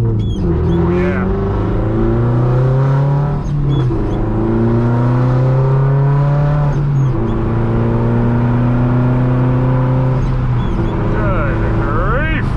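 Straight-piped Subaru STI heard from inside during a drive, a loud, raspy boxer engine that drones and rises through the revs with gear changes, close and dominant throughout.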